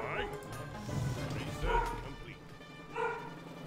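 A dog lets out a few separate barks and yips, medium distance, over steady low background noise with no talk.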